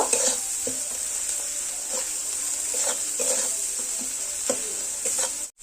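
Spice masala frying in a pan for a ban fish curry, a constant bright sizzle broken by regular stirring scrapes and knocks every half second or so, close and fairly loud, no talking.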